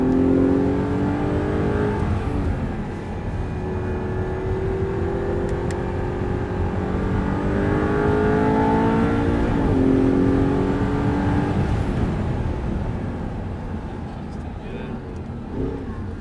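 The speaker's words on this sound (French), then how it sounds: "On peut accélérer progressivement, aller à fond." An Audi R8 V8 engine pulls hard under throttle, its tone climbing and dipping across the gears in a continuous, close roar. Someone talks over the engine.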